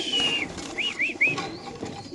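Racer pigeons kept in cages at a pigeon sale give a few short, bright chirping calls and soft coos close by over a low background murmur.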